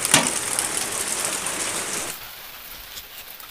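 Heavy rain hisses loudly on a surface, then abruptly drops to a softer patter partway through.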